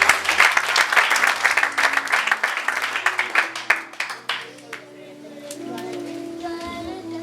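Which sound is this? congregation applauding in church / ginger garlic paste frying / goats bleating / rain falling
congregation applauding in church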